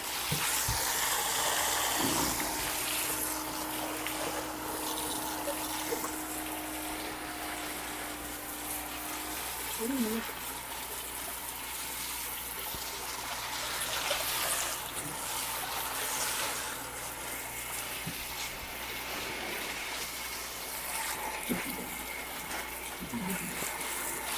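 Water rinses soap off an animal, a continuous close hiss of spray and running water with a low pump hum beneath, and a person speaks briefly during the rinsing.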